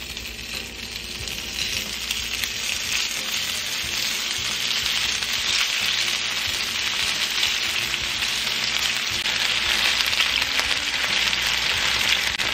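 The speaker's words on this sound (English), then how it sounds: "So we're going to continue frying them until they are nice and crispy on both sides." Beef sizzles and crackles steadily in hot oil in a large skillet over medium-high heat, a dense, continuous frying hiss with scattered pops, close and fairly loud with no talking.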